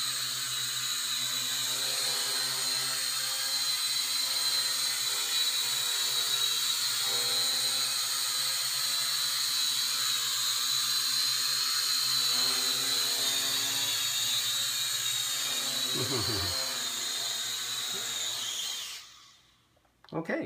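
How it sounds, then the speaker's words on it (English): A JJRC V686 quadcopter flying indoors, its steady high-pitched propeller whine continuous and close for about nineteen seconds before cutting out near the end. "This is a very stable quadcopter."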